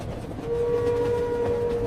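A train running on the rails, heard from a window seat on board, with a steady low rumble and a sustained tonal whine that sets in after half a second and continues throughout.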